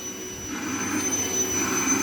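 Vacuum cleaner running in a house as a child pushes it around, a steady whining hum with a high tonal whistle, fairly close, slowly swelling in level.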